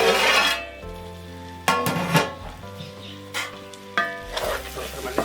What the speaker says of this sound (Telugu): మళ్ళీ ఒక రెండు నిమిషాలు మూత పెట్టుకొని వేయించుకుందాం